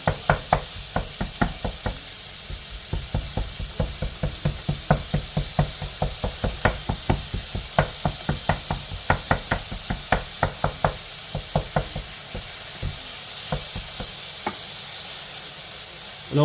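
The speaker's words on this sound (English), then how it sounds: "And all we want to do is crack and smash this up so it's quite fine." Ground beef for keema being cracked and smashed in a hot pan, a steady run of sharp knocks and scrapes from the spatula over a constant sizzling hiss, close by and without talk.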